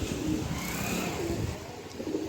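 A pair of pigeons gives low, soft coos nearby, with a constant low rumble of traffic or an engine running underneath.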